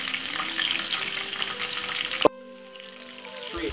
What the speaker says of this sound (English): now we're gonna put it straight in the deep fry